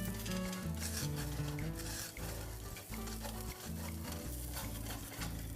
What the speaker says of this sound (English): Let's give this a good stir. Get that crust up off the bottom